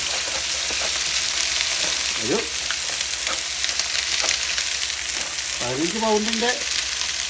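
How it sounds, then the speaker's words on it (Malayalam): Mustard seeds and fenugreek sizzle and crackle steadily in hot oil, a loud continuous frying hiss that runs throughout with occasional pops. "കടുക് പൊട്ടിച്ചു, ഉലുവായിട്ട്"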